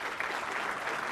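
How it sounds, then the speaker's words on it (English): A brief, steady burst of audience applause for first-time speakers at a business talk, dense even clapping heard at moderate distance with no talk over it. "a bigger round of applause"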